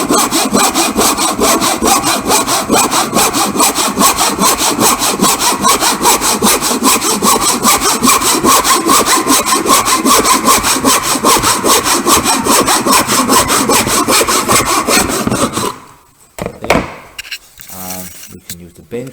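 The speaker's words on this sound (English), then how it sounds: "So tenon saw and bench hook" A tenon saw works through the end waist of a wooden trophy piece on a bench hook, with fast, even, continuous strokes close to the microphone for about fifteen seconds before stopping, followed by a few light knocks and handling sounds.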